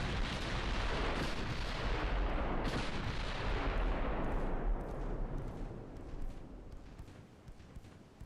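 Naval artillery fire in the warship game Ultimate Admiral Dreadnoughts rolls as a dense barrage of booming guns, loud at first and gradually fading into distant rumbling.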